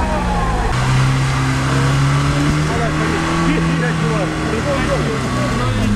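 A UAZ Patriot off-road vehicle churns through deep mud, its engine droning steadily and loud throughout with shifting revs, while people talk over it.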